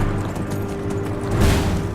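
Horse hooves clip-clop on the ground in Skyrim, a steady quick gait close by for two seconds, with a heavier thud swelling near the end.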